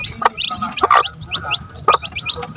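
Young chickens, including newly hatched chicks, clucking and cheeping close by in a coop, with repeated short calls and high peeps overlapping in an irregular chatter.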